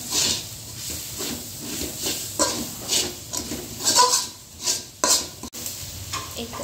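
Spices with garam masala sizzle and crackle in a hot pan while a spoon stirs and scrapes against the metal, with clinks at irregular moments.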